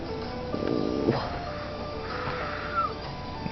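A house cat lets out a brief meow amid a tense standoff with another cat, with faint rustling and low background noise around it.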